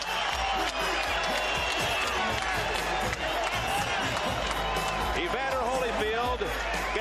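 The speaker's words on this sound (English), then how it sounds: "Gets the greeting from the crowd." Arena crowd roars and cheers as heavyweight boxer Evander Holyfield enters the ring at his 1990 fight against Buster Douglas, a dense, steady wall of noise with scattered shouts and whistles, and a commentator talking over it.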